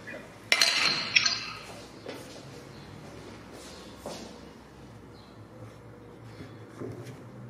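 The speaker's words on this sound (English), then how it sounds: "Add the liquid detergent and shake." Liquid detergent and solvents shaken in a glass container give a pair of bright glassy clinks close by near the start, then a faint, soft rattle and sloshing that fades away.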